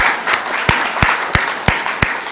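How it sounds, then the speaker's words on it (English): Audience applause closing a social business design workshop, a busy patter of many hands with several sharp, close claps standing out at a regular beat over the crowd. "Let's give him a final applause for him."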